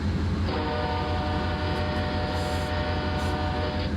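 A Canadian train horn in Train Simulator 2020 sounds a long, sustained chord over the steady rumble of a moving train and holds until the end.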